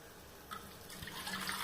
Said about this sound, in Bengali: আর বেশি জল দেবো না, অল্পই জল দেবো।